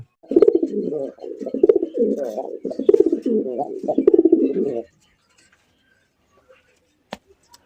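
Pigeons coo steadily and close by at a rural pigeon farm, a continuous warbling murmur lasting several seconds before breaking off into near silence with a faint click.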